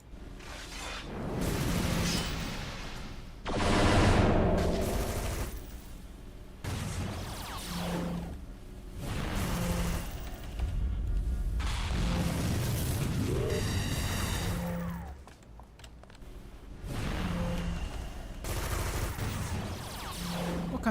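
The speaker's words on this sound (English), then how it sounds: "What kind of man fires a machine gun at a lady?" Machine gun fire in City of Heroes comes in loud, repeated bursts of rapid shots and booming impacts, separated by brief pauses, with short whooshes mixed between volleys.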